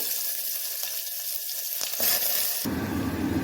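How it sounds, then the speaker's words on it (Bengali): Whole cumin seeds crackle in hot oil for a khichuri tempering, with a steady broadband sizzle that turns louder and fuller when chopped onion drops in near the end. "ফোড়নে আমি গোটা জিরে দিচ্ছি পেঁয়াজ কুচি দিয়ে দিব"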